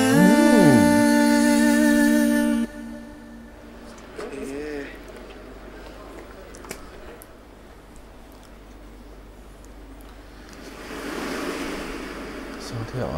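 Ocean waves wash in with a soft, steady rush after a brief musical opening, then swell louder toward the end.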